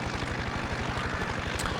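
A helicopter in Farming Simulator 22 drones steadily with a rapid, even rotor chop, loud and continuous with no talk over it.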